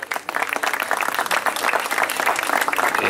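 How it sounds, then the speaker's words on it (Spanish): Dense, steady applause from an audience at a 2014 social commitment recognition ceremony in San Lorenzo, greeting the city's mayor, with many hands clapping continuously and at a fairly even loudness throughout. "Fuerte el aplauso."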